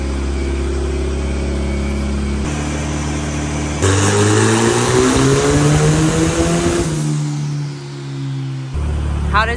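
A turbocharged Toyota 22RE pickup engine revs hard on a dyno, loud and close, climbing through sustained pulls with a brief dip and recovery near the end, no talking.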